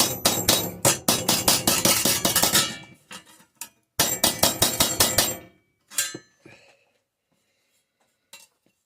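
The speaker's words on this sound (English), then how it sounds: "Just do a bit more planishing." A planishing hammer strikes the metal of a model live-steam locomotive boiler in two fast, loud bursts of close ringing blows, then a few scattered taps trail off into quiet.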